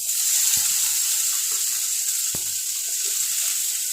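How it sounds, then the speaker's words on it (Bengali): Paneer pieces fry on low flame in a pan with a constant bright sizzling hiss, broken by a couple of sharp clicks and small spatters. "এবার আমি দেব আমার কেটে রাখা পনিরের টুকরোগুলো"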